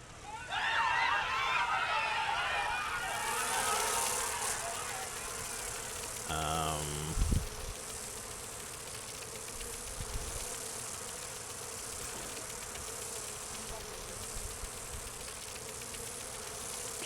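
Buzzing bees inflicted on a target in the video game Dragon Age Inquisition, a steady insect drone with a brief low thump partway through, then quieter game ambience.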